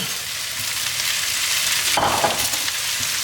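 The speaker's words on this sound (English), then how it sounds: "now I'm going to put this tasso ham in there, and the bacon" Tasso ham and bacon fry in a pan for shrimp and grits, giving a steady, close sizzle with a brief stirring flare about two-thirds of the way through.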